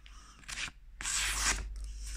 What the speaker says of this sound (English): it cuts okay in my opinion, but yeah, this is just coupon card